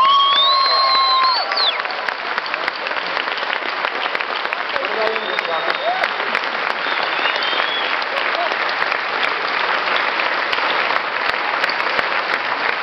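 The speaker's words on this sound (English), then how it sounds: "Another round of applause." Sustained audience applause filling a hall at a Neil deGrasse Tyson talk, dense and steady clapping from a large crowd throughout, with a brief whistle or cheer near the start.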